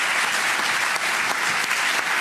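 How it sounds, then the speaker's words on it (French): Warm applause from the audience at a public hospital meeting in Bordeaux, steady and loud throughout with no break. "qu'on les applaudisse très chaleureusement"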